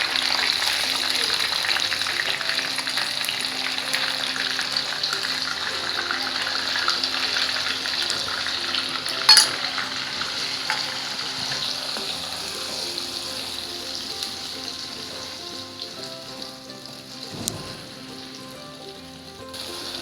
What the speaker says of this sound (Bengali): এবারে ওই তেলেই, মানে তেল আর ঘিতে, পেঁয়াজ বাটা, আদা বাটা আর রসুন বাটা ভেজে নেব।